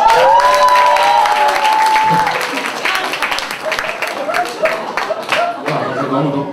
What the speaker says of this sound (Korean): 다시 한번 큰 박수 보내주시고요